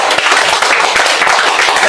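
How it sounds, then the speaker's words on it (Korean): An audience at a lecture applauds, a dense, loud patter of many hands clapping close by for a couple of seconds. "박수 주시죠"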